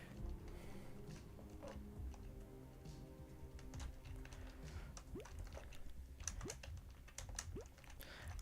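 Computer keyboard keys clatter in quick, uneven bursts throughout, fairly close and continuous, as someone types while playing a game.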